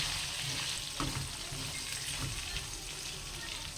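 Pork and eggplant stir fry sizzling steadily in a pan with soy sauce, a continuous close frying hiss with occasional soft stirring clunks.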